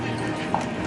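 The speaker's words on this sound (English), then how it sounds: "Horses coming down Main Street." Horses' hooves clop along Main Street near a castle amid a busy, crowded background murmur, a brief, close rhythmic clatter.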